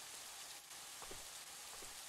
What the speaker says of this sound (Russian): дождь, который сейчас идет снаружи